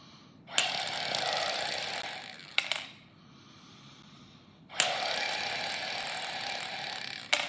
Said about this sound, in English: Now, I can flip it over, and now I got to blow through this.